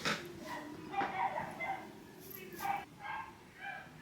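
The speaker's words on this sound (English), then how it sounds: "Now their dog is barking." A neighbours' dog barks and yips in short, irregular bursts at a moderate distance, with speech heard around it.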